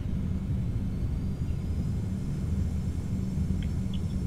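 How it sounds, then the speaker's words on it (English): Airliner thrust reversers roaring on landing in a flight simulator game with a 717 at Amsterdam Schiphol, a steady low engine rumble holding loud and constant throughout. "So we got the reversers."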